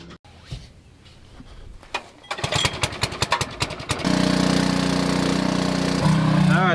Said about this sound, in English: I'll take it over here to the other nurse tank with the pump on it and just pump it dry